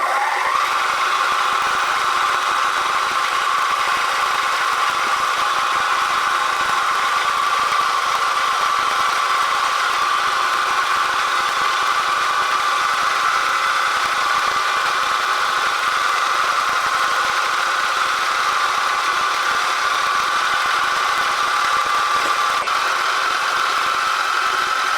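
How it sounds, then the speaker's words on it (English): A milling machine drills 10 millimeter holes for an angle set jaw assembly, a steady, close machine whine with a constant tone that runs without a break throughout. "I'm going to drill each one to 10 millimeters."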